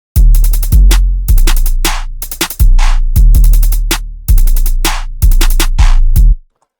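A loud, close programmed drum pattern for a trap beat, with booming 808 kicks, crisp snares and rapid hi-hat rolls in a steady looping rhythm.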